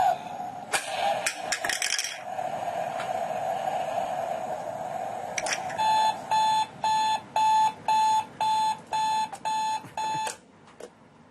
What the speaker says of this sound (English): The alarm clock won't stop ringing until you get up, find the rocket, and put it back on the launcher.